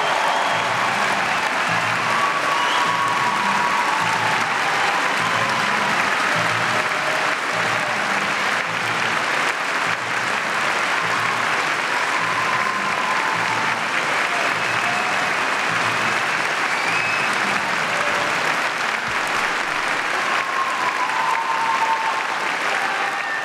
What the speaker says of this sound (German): Deswegen bitte ich um einen großen Applaus